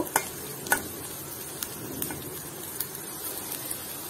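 Chopped onions fry in a pan with salt, a steady soft sizzle beneath occasional sharp clicks of a utensil stirring against the metal.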